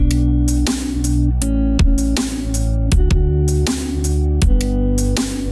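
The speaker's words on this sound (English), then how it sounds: "you'd like them to sound like this" Punchy drums, sidechain-compressed in an Ableton Live mix, hit loud and close in a steady pattern, with the sustained bass and synth layers ducking sharply under each kick before pumping back up.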